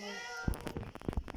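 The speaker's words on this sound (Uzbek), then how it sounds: "Mushukcham o'chir." A cat meows once, in a short, fairly close call, followed by some rustling and handling noises.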